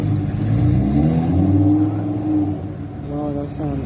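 A Lamborghini Huracan at a Gumball 3000 street event revs loudly and drives past, its engine note rising and then fading, with onlookers talking over the noise.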